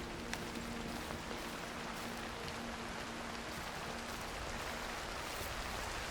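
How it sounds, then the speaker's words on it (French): Steady hiss of rain falling, a dense continuous patter with a faint low hum underneath, no voices. "il pleut en même temps là"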